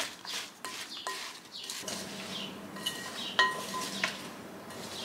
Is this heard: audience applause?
no